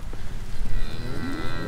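Cattle in a herd of about 26 cows and a bull moo in a low, drawn-out call outdoors on a wet farm, loud and close, with no talk over it.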